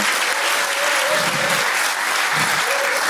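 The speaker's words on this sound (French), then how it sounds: "Hey, tu dois acclamer." A church congregation bursts into steady, loud applause with some cheering, a dense continuous wash of clapping filling the room without a break.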